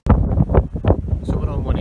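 Strong wind gusts buffeting the microphone during a snowstorm in Scotland, rumbling in uneven surges close by, with a voice speaking under the blustering.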